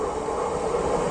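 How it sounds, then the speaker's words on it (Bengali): A train rumbles at a railway station in Bengal, a continuous close, loud roar of wheels and carriages with no voices. "তমলুক যাওয়ার ট্রেন চলে এসেছে"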